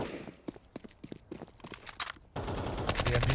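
Rapid bursts of MAC-10 submachine gun fire in Counter-Strike at a BLAST Premier esports match, sharp repeated shots in clusters, then a dense louder wash of gunfire and game noise in the final second.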